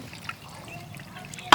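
Water trickles and splashes steadily into a cooking pot in a home kitchen during meal preparation. The pour is soft and continuous, with a sharp clatter right at the end.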